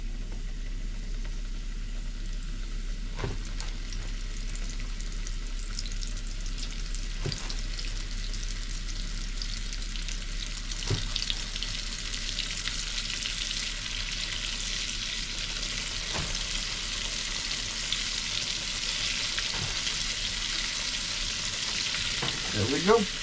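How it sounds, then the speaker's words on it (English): Fish frying in a pan at a campsite on a boat on a small South Louisiana lake, a steady, bright sizzle that carries on for the whole stretch, with occasional soft clicks and pops from the pan. "I love the sound of fish frying."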